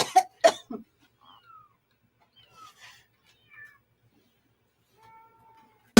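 A person imitates a cat coughing up a hairball, with a few sharp hacking coughs followed by scattered faint meow-like squeaks and retching noises, close and alone.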